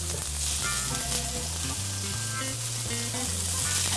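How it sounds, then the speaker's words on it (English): Tofu blocks sizzle steadily in olive oil in a skillet over medium heat, a continuous crackling fry with faint stirring and no speech. "we're cooking these tofu blocks for about 7 minutes"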